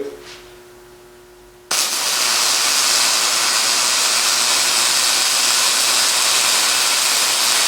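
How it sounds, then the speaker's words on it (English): Welding metal in a repair shop: after a quiet start, a loud, steady crackling hiss begins near two seconds and runs continuously to the end, close and unbroken. "I really don't need to weld it this much, but hey, why not?"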